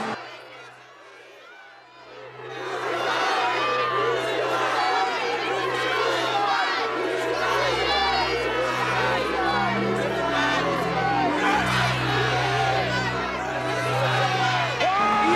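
A film crowd shouts and clamours loudly in unison, many voices yelling together after a quiet opening, with low music or drones underneath throughout.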